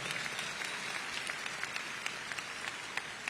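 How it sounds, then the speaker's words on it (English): At a high school commencement ceremony, a large audience applauds honored scholars with steady, distant clapping that sounds soft and diffuse. "Go ahead and give them a round of applause."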